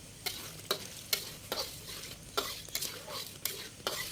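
Sate filling cooking in a pan with palm sugar and seasoning until the oil separates, a soft frying sizzle broken by regular sharp spatula knocks and scrapes against the pan, close and moderately loud.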